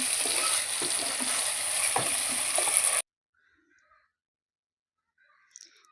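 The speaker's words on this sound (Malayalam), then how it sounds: "ഇഞ്ചി വെളുത്തുള്ളി പേസ്റ്റ് ചതച്ച് വെച്ചത് അത് അതിലിട്ട് ഒന്ന് ആ ഒരു സ്മെല്ലൊന്ന് മാറുന്ന വരെ നമ്മളൊന്ന് ഇളക്കി കൊടുക്കാം" Ginger-garlic paste sautéed and stirred in hot oil in a pan, giving a loud, steady close-up sizzle with a few soft stirring scrapes for about three seconds before cutting to near silence.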